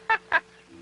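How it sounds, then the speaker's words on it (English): Two short, harsh squawks from a cartoon macaw, close and loud, separated by a brief pause, over a faint steady hum. "Another interesting animal you will see is the bird called the macaw."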